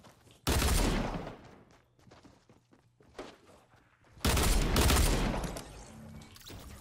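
Burst-fire weapon shots in the Fortnite video game on PS4, two loud dense bursts of rapid gunfire separated by quieter game noise and scattered single reports.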